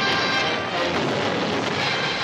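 Fort cannons fire in a 1942 swashbuckler battle scene, a dense continuous roar of booming artillery rumbling through the whole stretch without a break.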